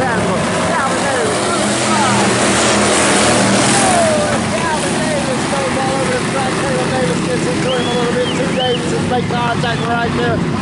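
IMCA Hobby Stock race cars roar around Salina Speedway, a loud, continuous engine drone with rising and falling revs from several cars passing, under a race announcer's steady commentary.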